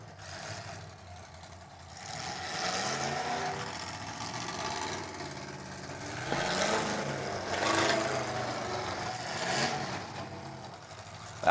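A demolition derby car engine revs loudly through its exhaust in an outdoor arena, rising and falling in several surges over a rough idle, with other engine noise and a faint beeping around it.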